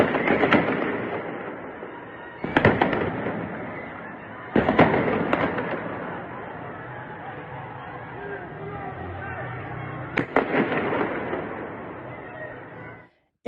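Fireworks and firecrackers on Chaharshanbe Suri night in Chitgar, Tehran, with sharp sporadic bangs over a constant crackling, rumbling backdrop and crowd chatter mixed in.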